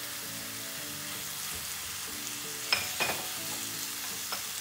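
Chicken pieces fry with onions in a pan, giving a steady bright sizzle with a few clinks and scrapes of stirring.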